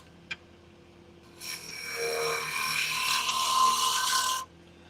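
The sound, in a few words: carbide tool turning wood on a lathe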